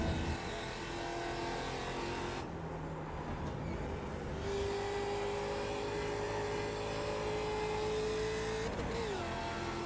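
Race car engines drone steadily in the iRacing sim, a continuous buzzing whine that rises in pitch as the car accelerates, with no one talking.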